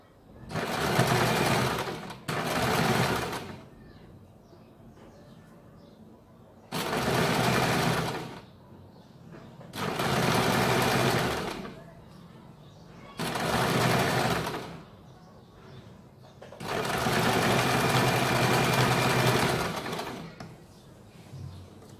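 A sewing machine runs in six long stitching bursts along a kurti seam, each loud and steady, separated by short pauses.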